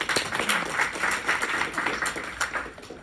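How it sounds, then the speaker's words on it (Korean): Audience applause at a talk on national insurance, a steady broadband patter of many hands clapping for about three seconds with no voices over it. "박수 한번 주세요"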